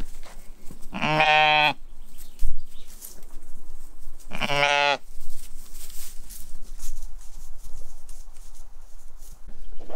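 Two loud, close bleats from sheep during spring lambing on a muddy farm, each about a second long and a few seconds apart, over faint outdoor background noise.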